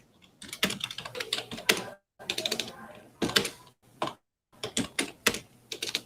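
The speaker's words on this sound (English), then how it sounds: "God damn, that's a loud keyboard." A loud computer keyboard clatters in quick bursts of typing, with several short pauses between runs of close, sharp keystrokes.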